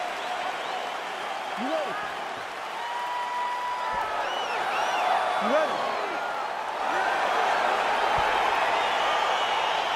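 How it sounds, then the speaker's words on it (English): Virtual arena crowd in the EA Sports UFC 4 fighting game as a bout gets underway, a steady roar of cheering and whoops under a voice asking if the fighters are ready. "crowd getting excited as this fight gets underway"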